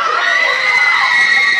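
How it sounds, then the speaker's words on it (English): Girls in a crowd screaming at a ska-punk concert, a shrill, sustained chorus of high-pitched shrieks filling the space without a break. "I love it when girls scream."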